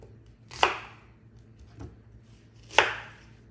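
A knife cuts through a cleaned, peeled onion, quartering it on a board: two crisp, close chops about two seconds apart, with a softer tap between them and no talking.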